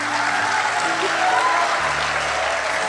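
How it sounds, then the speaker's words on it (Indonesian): A church congregation applauding during a sermon, dense steady clapping close by for the whole clip, with faint tonal hum underneath. "Nggak usah tepuk tangan."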